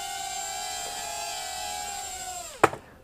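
Hubsan X4 H107C mini drone whining at a high, steady pitch close by near a table, ending in a sharp knock as it touches down and its motors fall silent.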